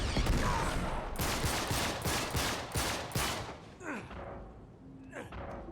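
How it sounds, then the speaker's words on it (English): Grenades exploding in the Uncharted 3 video game, a dense rapid series of blasts and gunfire that fades into quieter thuds and rumbles, with a voice talking over it. "we're just gonna throw a few grenades at him"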